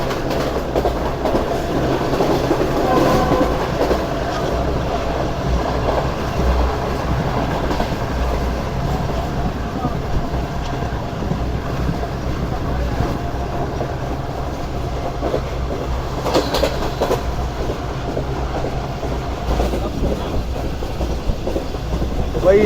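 The Pak Business Express rolls steadily along the rails with a continuous rumble and rhythmic wheel clatter, heard near and loud from on board for the whole stretch, with no talking.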